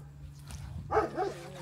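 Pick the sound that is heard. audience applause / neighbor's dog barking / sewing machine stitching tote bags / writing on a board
neighbor's dog barking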